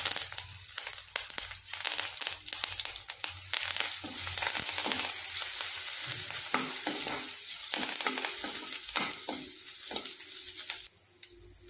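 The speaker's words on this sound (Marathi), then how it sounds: "कढीपत्ता टाकते।" Curry leaves dropped into a hot pan of oil with garlic for a green pea amti sizzle loudly and steadily while being stirred, close and continuous with crackling pops, no talk.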